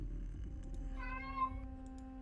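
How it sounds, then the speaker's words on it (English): A cat gives a single soft, drawn-out meow over a low steady hum, fairly faint and with no talking. "Sounds very similar to another cat we know that gets very talkative."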